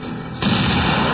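Weapon fire in the first-person shooter Unreal 2: a dense, loud burst that swells suddenly partway through and sustains as a continuous roar of shots, with no talking.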